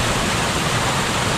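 Rushing river water of the Rio Verde near Otívar, Granada, in Andalusia: a steady, dense, full roar with no breaks, close and loud throughout.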